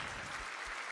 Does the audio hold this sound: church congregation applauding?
yes